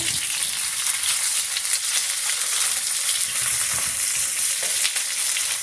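Onion and green chili fry in coconut oil in a pan for chutney, a steady, close hiss of sizzling with occasional stirring scrapes and no talk.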